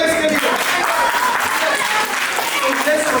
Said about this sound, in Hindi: तालियां इसके लिए